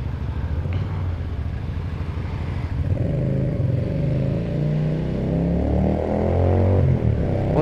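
Keeway V250FI motorcycle on a test ride in traffic, its engine droning steadily close by and rising in pitch as it accelerates, with wind and road noise and no talking.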